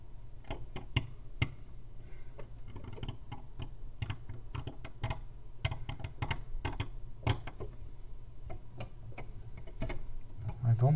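A carving knife scrapes and chips away the background of a stone Chinese name seal, producing many small, close, irregular ticking clicks over a low steady hum.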